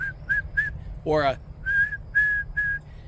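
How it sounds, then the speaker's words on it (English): Three sharp, high-pitched blasts on a hiking safety whistle, sounded as a distress signal, then a rising and falling warbled whistle, then three more short blasts, all close and loud with no talking. "the universal call for distress is 3 blows on the whistle"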